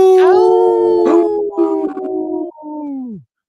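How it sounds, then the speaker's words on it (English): A wolf lets out a loud, clear howl, one long wavering tone that holds steady and then drops away into silence at the end. "Howling for Wolves, protecting wolves for future generations"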